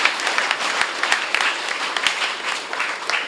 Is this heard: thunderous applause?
yes